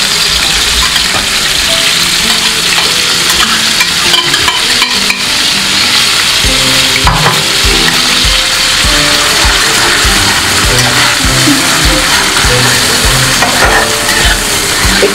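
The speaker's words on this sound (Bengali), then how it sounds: "তেলটা আমার গরম হয়ে গেছে। এবার লোটে মাছটা দিয়ে দিলাম।" Lote fish (Bombay duck) frying in hot oil gives a loud, dense, continuous sizzle close up, with repeated scraping and stirring knocks throughout and no talking.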